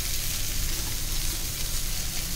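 Prawns coated in breadcrumb masala fry in a pan with a dense, even sizzle, loud and close, holding steady for a couple of seconds with no talk.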